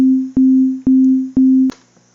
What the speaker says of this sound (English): it basically repeats the note. Very simple sine wave